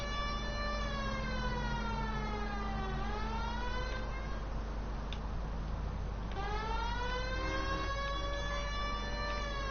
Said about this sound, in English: You know we've got a siren, Phelps.